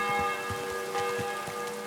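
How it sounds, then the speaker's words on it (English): A church bell rings steadily through falling rain in Kingdom Come: Deliverance II, the tolls repeating at a slow regular pace over a constant wash of rain, with no talk. "this weather and the bell ringing, pretty horrid combination"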